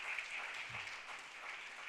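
An audience claps together at a hunger campaign launch, a steady, even patter of many hands held at one level and heard without speech for a couple of seconds.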